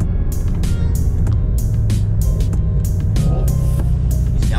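A Ford Mustang 5.0 roaring under hard acceleration close by, its engine note dropping and rising in a series of downshift blips over a constant loud drone.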